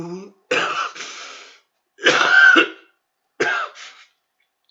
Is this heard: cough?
yes